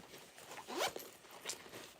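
A zipper pocket on a handmade shoulder bag is pulled shut in one quick, close rasping zip, with faint handling rustles before and after.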